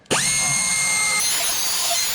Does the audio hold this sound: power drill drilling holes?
yes